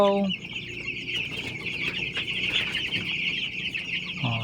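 A flock of young chicks, about twelve days old, cheeps and clucks continuously near feeding time, a dense, close chorus of high peeps with a few lower clucks at the start and end.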